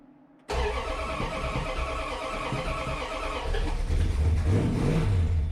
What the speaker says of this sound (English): I'm gonna have to turn it over quite a bit at the beginning just to pump fuel into the carburetor